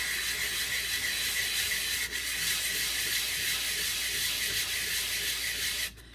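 Steady hand sanding of cured epoxy resin, a continuous close abrasive rubbing that holds evenly for several seconds with a brief dip midway and tapers off at the end, no voices.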